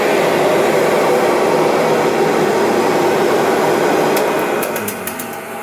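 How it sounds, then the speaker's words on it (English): A 1998 Kirby Generation 5 upright vacuum cleaner runs close by with a loud, steady whooshing roar that eases slightly toward the end, with a few faint clicks. "I'm going to run my second 1998 Kirby Generation 5 upright"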